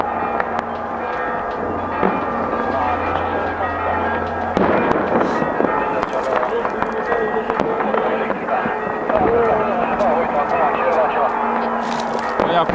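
New Year's Eve fireworks pop and crackle continuously in dense, overlapping bursts, some sharp and near, others distant, with voices talking underneath throughout.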